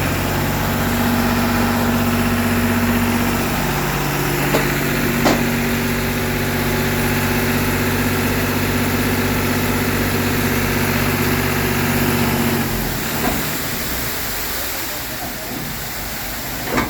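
An engine idles at a construction site in a steady low drone with a sustained tonal hum, running loud and continuous before the hum drops away near the end amid outdoor background noise.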